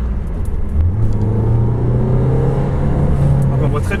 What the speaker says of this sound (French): C'était juste pour vous montrer un peu le ronronnement du moteur.